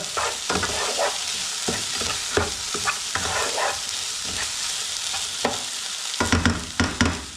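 Garlic, red chili and chorizo sausage sizzle in a hot pan for a quick spicy seafood pasta, a constant bright crackle broken by repeated scraping stirs, with a burst of louder stirring near the end.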